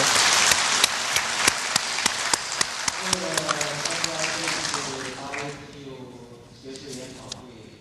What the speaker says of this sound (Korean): 세계 차인 지도자 여러분 환영합니다. 박수로.